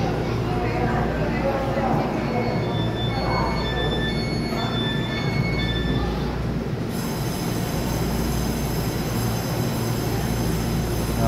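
An EMU3000 electric multiple unit train starts moving, with a low, continuous rumble and faint wheel squeal and whine. A person talks over the train noise throughout.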